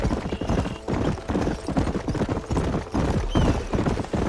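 Horse hooves clip-clopping at a fast gallop in the Red Dead Redemption video game, a steady loud drumming rhythm with an occasional whinny, close and continuous under faint background game sound.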